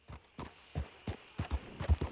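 A horse trots along a path in Red Dead Redemption 2, with about eight evenly spaced clip-clop hoof strikes, close and moderately loud, and no speech.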